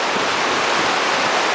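Thunder River and Tapeats Creek meet at high flows and rush on toward the Colorado River, a loud steady roar of whitewater filling the air without pause.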